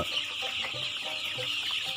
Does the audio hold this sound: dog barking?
no